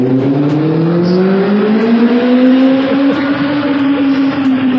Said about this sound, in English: I figured I'll just be quiet while the bike goes by.